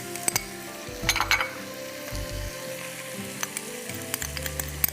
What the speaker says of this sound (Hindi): बस चिकन को हम इसमें ऐसे ही सौटे करते हैं थोड़ा सा।